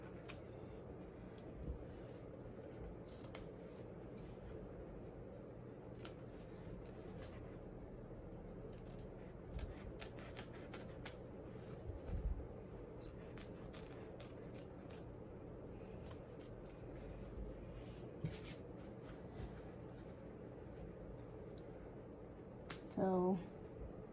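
Scissors snip fabric close to the stitching of an heirloom quilted blanket during applique, producing repeated short crisp clicks and cuts, quiet and close, with a bright burst near the end and speech at times.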